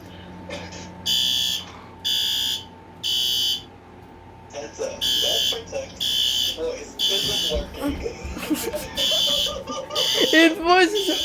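A household smoke alarm from a collection sounds three loud, evenly spaced beeps. Then a flurry of alarm tones and a recorded voice warning follow, mixed with handling noises and a person talking quietly nearby.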